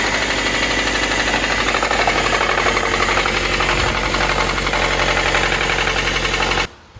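A used 5,000-mile Nissan MR16 car engine runs loud and close with a rapid, clattering valve-train knock over a steady engine drone, then cuts off abruptly just before the end.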